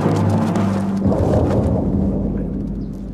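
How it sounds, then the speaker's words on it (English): A summer thunderstorm rolls with heavy, continuous thunder and dense rain noise, loud and close at first and slowly easing off, with no voices. "The summer storm has arrived."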